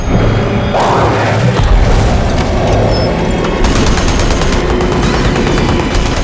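Automatic turret gunfire in a sci-fi film battle, loud and continuous, with dense rapid firing and booming impacts layered in a busy action soundtrack.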